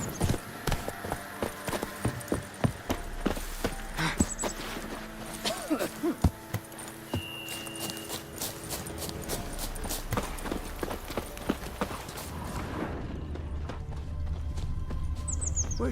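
Geralt's horse Roach galloping in The Witcher 3, a fast rhythmic clip-clop of hooves thudding steadily close by with ambient game sounds, the hoofbeats fading into a smoother rush toward the end.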